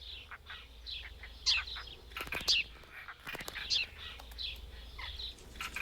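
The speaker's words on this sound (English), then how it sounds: "the sparrows can sing to claim their rights" Sparrows near their nesting holes on a dry riverbed, several short bright chirps and twittering calls in irregular clusters, fairly close and moderately faint over a quiet low background.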